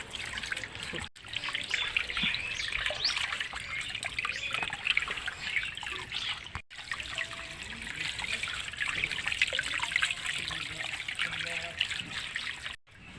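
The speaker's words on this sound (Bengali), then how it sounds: "আমি মাছটা ভালো করে ধুয়ে নেব" Running tap water trickles and splashes continuously over a freshly cut bata fish being washed in a sink, with small irregular splatters and brief interruptions as the fish is handled.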